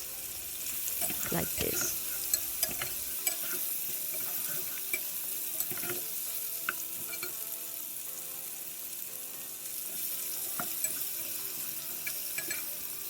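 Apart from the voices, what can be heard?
beef chunks frying and being stirred in pan for Texas chili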